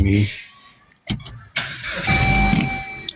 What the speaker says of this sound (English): had to start the car because to avoid the battery draining